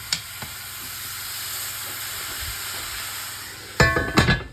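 Ice cubes tossed onto a hot oven tray beneath a sourdough loaf at 240 degrees burst into loud, crackling steam hisses near the end, after a long, quieter steady hiss from the oven.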